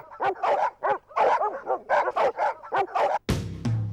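Two dogs, one a Rottweiler, bark in rapid, yappy bursts, close and loud, with a rough snarling edge, ending in a sudden sharp clatter.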